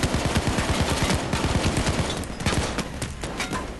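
Rapid automatic gunfire in the Payday 2 video game, dense bursts of shots firing nearly continuously and loud up close, with no talking.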